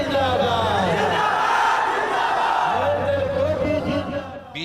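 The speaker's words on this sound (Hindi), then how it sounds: "बीच बीच में भीड़ पीएम मोदी और सीएम नीतीश कुमार के लिए नारे लगाती है" Large outdoor crowd in Bihar chanting slogans for PM Modi and CM Nitish Kumar, a loud, continuous mass of voices with rising shouts swelling through the whole stretch.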